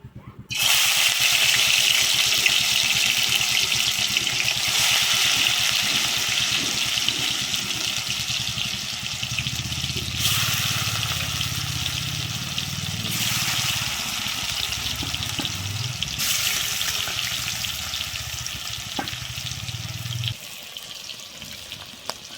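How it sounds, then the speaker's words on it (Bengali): Cabbage and egg pieces frying in hot white oil in a kadai, a loud continuous crackling sizzle that swells at times and then drops away near the end. "আমার তেলটা গরম হয়ে গেছে আমি এবারে এগুলোকে একে একে ভেজে নেবো"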